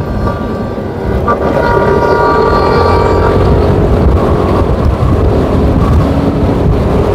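Strong wind at a cycling race roars and buffets the microphone continuously, a heavy rumbling rush with a faint tonal hum running through it.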